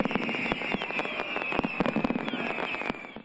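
Fourth of July fireworks display at the LA Memorial Coliseum, a dense run of sharp bangs and crackling pops bursting rapidly and loudly one after another.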